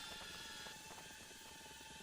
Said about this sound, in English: I hear the helicopter over here.